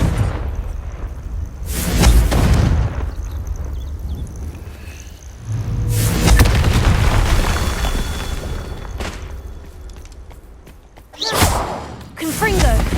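Confringo explosion spells from the video game Hogwarts Legacy go off as several heavy booming blasts with thumping impacts, spaced a few seconds apart and mixed with a spoken voice.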